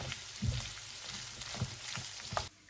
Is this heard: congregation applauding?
no